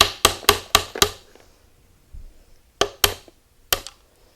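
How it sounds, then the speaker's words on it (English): Sharp metallic hammer blows on a nail punch ring out, a quick run of five strikes, a pause, then three more spaced hits, loud and close. "you can use a puncher and a hammer and just hit that nail all the way through"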